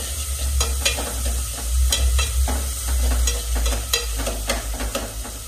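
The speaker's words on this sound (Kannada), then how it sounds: "ಈರುಳ್ಳಿನ ಚೆನ್ನಾಗಿ ಫ್ರೈ ಮಾಡ್ಕೋಬೇಕು" Chopped onion fries in a hot pan for an okra palya, a steady sizzle broken by repeated stirring scrapes, with a low hum underneath and no voices.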